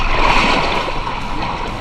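Big sea waves at the western tip of Sumatra, heard close as a loud, continuous rush of surf and splashing water with faint talk underneath.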